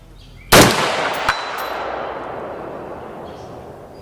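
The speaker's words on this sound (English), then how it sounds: "let's see if we can ring that steel a couple more times" A single loud rifle shot, fired through a Warhog muzzle brake, cracks close by, followed a moment later by the faint ring of a distant steel target and a long rolling echo.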